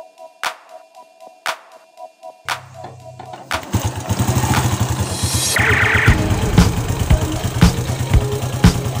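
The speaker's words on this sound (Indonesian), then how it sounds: "Ternyata mesin bisa menyala tanpa acu aki." A motorcycle with no battery fitted is kick-started: a few sharp clicks and kicks, a brief low churn, then the engine catches and runs with a loud, uneven idle with blips close by.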